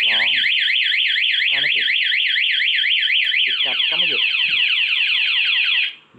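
A Honda CBR250 motorcycle's anti-theft alarm, triggered by locking, wails in a loud rapid up-and-down siren, then shifts to a stepped chirping pattern before cutting off near the end.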